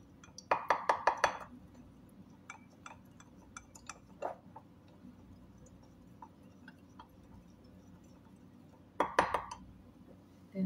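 Salad ingredients of vegetables, chicken and quinoa are tossed in a bowl, with bursts of quick clinking and tapping from utensils against the bowl, a cluster at the start and another near the end, separated by sparse scattered taps.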